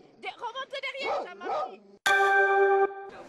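Dogs at an animal shelter give a quick run of close, sharp barks and yips, followed by a long, sustained tonal whine or howl before another bark starts.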